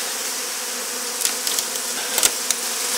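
Bees buzz steadily around a beehive prepared for wintering, where extracted frames give off a strong smell; a continuous mid-level drone fills the scene, broken by a few brief louder passes as individual bees fly close.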